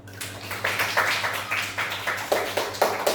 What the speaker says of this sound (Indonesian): tepuk tangan dulu buat kelompok 4